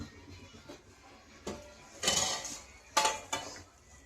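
A few metallic clanks of a lid being set onto a pot of ridge gourd curry on a low gas flame, two sharper knocks near the end, with quiet kitchen background between.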